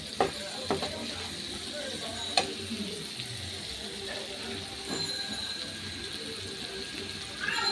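Eggs frying in oil along with green chilies and onions, a close, continuous sizzle with occasional clicks of a utensil against the pan, while someone talks over it.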